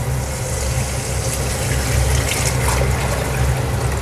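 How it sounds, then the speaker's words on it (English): Coconut milk is poured into a cooking pot for Nigerian coconut rice, making a continuous, close, full liquid gush and splash that stays steady and loud throughout. "So I'm going to pour my milk."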